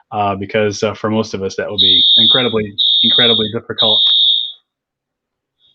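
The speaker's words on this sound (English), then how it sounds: "that's my fire alarm going" A home smoke or fire alarm beeps three times in a loud, evenly spaced high electronic tone, sounding alongside and just after a person talking.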